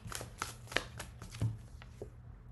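Angel cards are shuffled close by, a soft papery riffle of repeated flicks and taps running throughout at a low, steady level with no voices.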